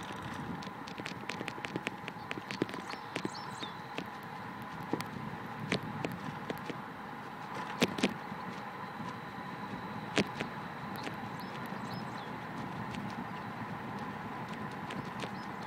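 Horse hooves clip-clop at a relaxed walking pace on a sunset ride, a faint, steady patter of irregular hoof strikes under a soft outdoor background throughout.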